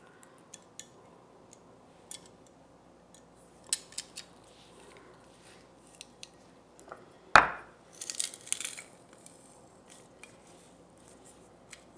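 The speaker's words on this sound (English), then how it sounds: "And then I'm going to use my wonderful garlic mincer." Garlic cloves are peeled and pressed through a garlic mincer in a kitchen, quiet scattered clicks and taps with one sharp metallic squeeze and crunch, then a few softer handling noises.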